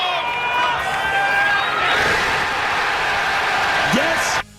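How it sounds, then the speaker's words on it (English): Golf tournament gallery erupting after a birdie putt, a loud swelling roar of cheers and shouts that holds steady before cutting off abruptly near the end. "Listen to that crowd go wild."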